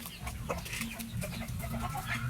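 Chickens cluck and squabble excitedly at feeding time on a farm, a busy continuous chorus of fowl calls at moderate level without talk.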